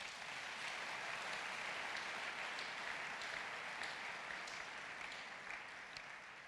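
A church congregation at a French-language worship service breaks into sustained, dense applause filling the room, steady and loud throughout with a slight fade near the end.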